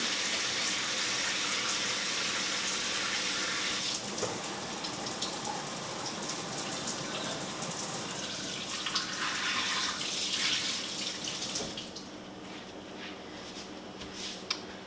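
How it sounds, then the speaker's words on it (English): Kitchen tap running steadily as hands are washed, a broad close hiss of flowing water that dips and splashes before easing off near the end, with no talking. "Before we get started, I'm going to wash my hands real quick."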